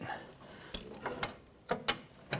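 A hand ratchet runs a bolt down on a rear upper control arm of a 2011-2021 Jeep Grand Cherokee, giving a few separate sharp clicks spaced apart, close but quiet over a faint background.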